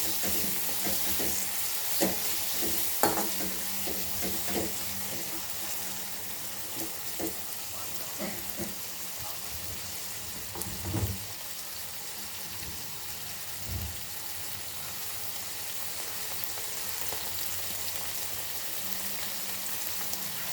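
Tomatoes sizzle steadily in a pan while cooking for capsicum sabji, with occasional scraping clinks of a spoon stirring through a continuous frying hiss.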